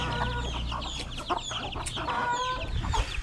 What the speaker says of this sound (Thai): ไก่บ้างด้วยครับ